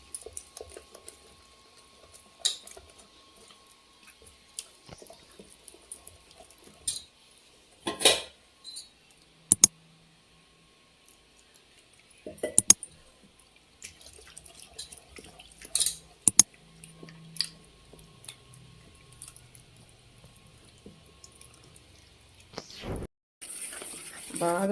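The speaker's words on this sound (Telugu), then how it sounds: "సాలకపోతే కొంచెం వాటర్ వేసుకొని కలుపుకుందాం మళ్ళా" Jalebi batter gets mixed with a little water in a bowl, giving sparse, intermittent clinks and scrapes of utensil against the dish amid quiet pauses.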